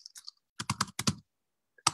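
Computer keyboard typing while an email is written, a short burst of several quick clicks followed by a pause and one more keystroke, close and fairly quiet with no talking.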